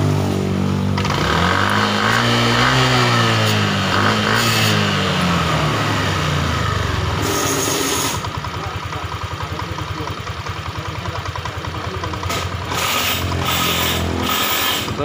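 A Yamaha Aerox scooter engine idles and revs in a workshop while a wiring fault with a repeatedly blowing 30A main fuse is checked, its pitch rising and falling in near, steady bursts.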